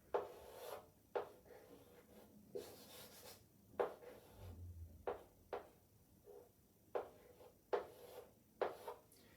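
A hand writes out an equation, with a quiet sequence of short scratchy strokes at an irregular but steady rhythm, faint and close, with no talking.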